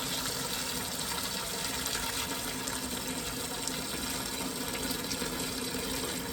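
Hot water pours steadily into a container for turkey brine, a continuous broadband gush that stays even and fairly loud throughout with no talking.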